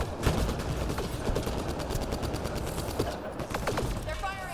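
Enemies firing guns in Mass Effect Andromeda multiplayer, a continuous rattle of rapid shots at moderate level beneath a busy mix of game sounds, with a voice speaking partway through.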